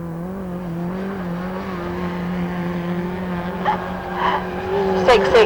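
Autograss race cars battling on a dirt oval, one car overtaking another; a steady engine drone with revving harmonics fills the scene, rising into a brief tire squeal and skid near the end.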